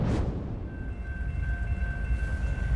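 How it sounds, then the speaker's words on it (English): Railroad crossing signal at a rural crossing as a train passes, a steady ringing tone held over a heavy low rumble of rolling rail cars, loud and continuous. "Well, Bob, Laura, you can actually hear the railroad crossing sign right now."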